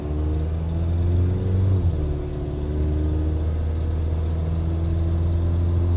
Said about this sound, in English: Truck is pretty slow, if I'm being honest.